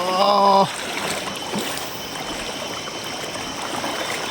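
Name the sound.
river stream flowing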